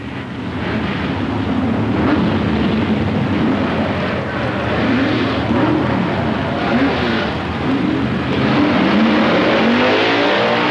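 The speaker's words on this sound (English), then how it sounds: "Pitcock in lane number 2 is first out of the hole" Drag racing cars launch at the 1964 Indy Nationals, including a Dodge, with a steady, loud roar of engines revving hard and holding for the whole stretch without a break.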